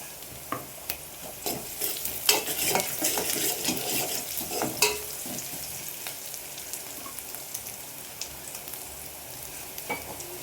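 Avarekayi palya, a North Karnataka-style field bean dish, bubbles and sizzles in a pan while a spoon stirs and scrapes against the metal in irregular clinks, fairly quiet and close.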